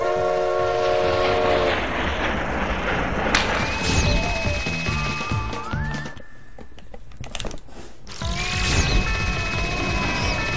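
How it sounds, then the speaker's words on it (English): A train arrives in the video game Ape Escape 3: a rumbling rail roll with sustained horn-like whistle tones, a crashing burst partway through, then the horn sounding again, loud and busy throughout. "Now we gotta call a train."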